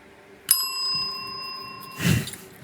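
A single bright bell ding rings out close and clear, its tone fading over about a second and a half and marking the start of a show, followed by a soft rustle.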